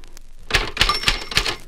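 Keys struck on a 1960s Brother typewriter give four sharp, evenly spaced clacks with bright metallic ring, close and loud, with no speech.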